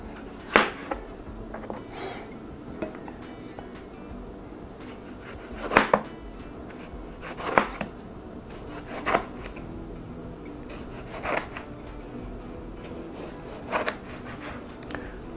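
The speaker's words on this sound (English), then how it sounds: "you're going to start by dicing up the tomatoes" A knife dices tomatoes on a cutting board for pico de gallo, slow irregular chops landing one at a time at close range with quiet pauses in between.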